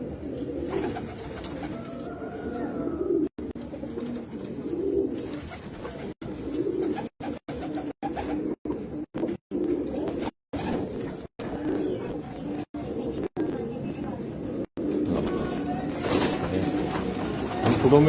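Pigeons coo steadily in a loft where fancy breeds are kept, the soft repeated coos running close and continuous with brief gaps between calls.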